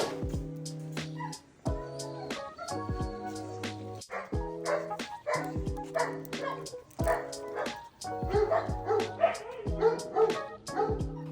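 A reactive dog barks, yips and whimpers repeatedly at close range during leash training, with a person talking underneath the steady bursts.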